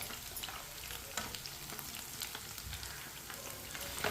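Chicken frying in a pan for an iftar dish, with a loud, steady sizzle and crackle and occasional light stirring clicks, no voices.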